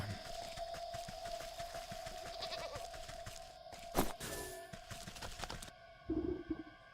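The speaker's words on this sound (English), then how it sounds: "Somewhere in the distance, you can hear braying through the dense bramble." A goat bleats in short, wavering cries over a steady electronic hum in the video game Wytchwood, with a sharp thump midway and a low bleat near the end.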